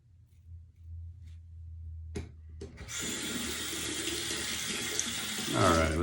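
Tap water starts running into a sink for wetting the face before a shave. After a quiet start with a couple of clicks, it becomes a steady, close, full rush that continues to the end.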